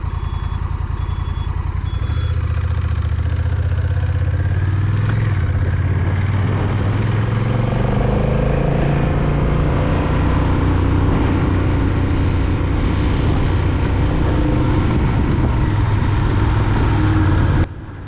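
Honda Rebel 1100 DCT motorcycle pulling away on a throttle twist: a loud, steady engine drone that rises and settles in pitch as it accelerates, close up, with no talk.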